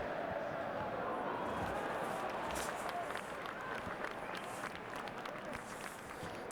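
A large stadium crowd applauds and cheers in a steady, dense wash of clapping and roaring noise that holds loud throughout before easing slightly toward the end.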